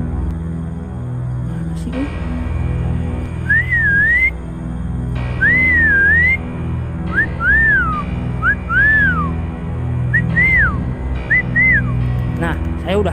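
A person whistles short rising and falling melodic phrases in bursts, close by, over a low background hum.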